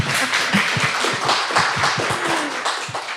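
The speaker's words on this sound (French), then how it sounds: "on peut l'applaudir." A conference audience applauds continuously with dense clapping that stays steady and fairly loud for the whole stretch, with no talking over it.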